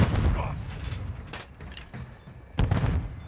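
A bomb goes off in the Call of Duty DMZ shooter, heavy low booms and gunfire-like blasts close by, with a second strong burst near the end.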